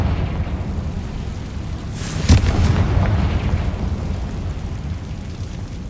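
A Confringo fire spell explodes in Hogwarts Legacy, a single sharp burst at mid-clip with a rumbling tail over a steady roaring background.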